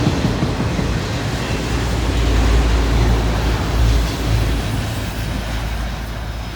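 Heavy freight trains roll past near a rail yard, a steady loud rumble and roar with a faint clatter running unbroken throughout, no talk.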